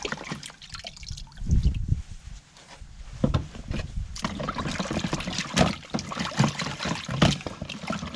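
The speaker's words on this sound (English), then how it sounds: "Let's just disassemble it and take it apart, and let's drop it here in the water." Parts of a disassembled Taurus G3 pistol dropped into creek water outdoors, giving close splashes and trickling, sloshing water in uneven bursts.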